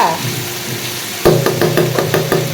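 Potatoes sizzle in a frying pan, a soft hiss broken by a run of rhythmic knocks and clatters as they are stirred, close by.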